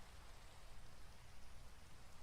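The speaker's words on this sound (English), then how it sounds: "because I don't like the sound of rain" Steady rain in the video game Minecraft, a soft, even hiss of falling drops with no voices, faint and continuous throughout.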